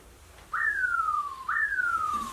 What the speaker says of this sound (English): The whistle is when you're almost moving well.